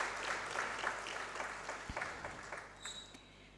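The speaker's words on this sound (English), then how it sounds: "Shall we acknowledge him with an applause?" Moderate audience applause at a land surveying division annual seminar, acknowledging the senior vice president, clapping that swells then thins out over a few seconds with a faint tone near the end.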